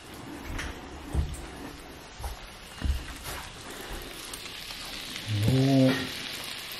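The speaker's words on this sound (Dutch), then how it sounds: "We gewoon een paar minuutjes een beetje bakken of zo" Flour-based vegan steak sizzles softly in a frying pan, a faint steady crackle broken by a few clanks of utensils and a brief louder scrape near the end.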